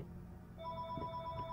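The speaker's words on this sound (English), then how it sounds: "Oh, phone call." A telephone rings inside the house in the horror game Layers of Fear, a steady trilling tone that starts a moment in and carries on over low ambient background.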